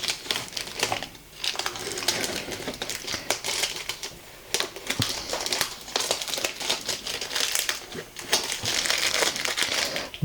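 Packing tape is peeled off watercolour paper in a series of crackly, tearing strips, loud and close, with brief pauses between pulls.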